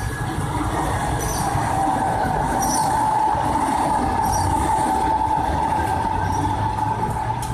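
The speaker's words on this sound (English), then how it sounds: "Northbound EMU." Electric multiple unit train heading northbound through Virginia Station, a steady loud rumble of wheels on rail with a sustained squealing tone and faint rhythmic clicks, continuous throughout.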